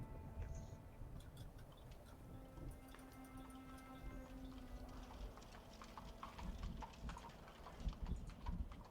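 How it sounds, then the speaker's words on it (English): Horse hooves clack in a game, a faint, steady clip-clop rhythm over soft background ambience. "You actually do hear that clacking. Oh, there's a horse."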